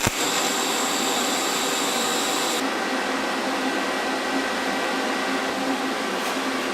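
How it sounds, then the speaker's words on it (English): A die grinder spins a wire wheel against metal in a workshop, a continuous loud, harsh whirring hiss that shifts tone partway through and runs steadily alone. "we're going to try this wire wheel on the die grinder"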